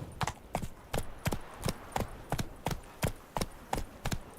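Roach the horse gallops through The Witcher 3's open world, steady rhythmic clip-clop hoofbeats repeating about twice per second, close and clear with a faint ambient bed and no talking.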